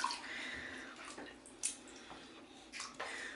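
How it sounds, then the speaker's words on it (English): A child blowing bubbles into water, with a few short bubbling, gurgling bursts close by over a quiet background. "he has successfully learned how to blow bubbles"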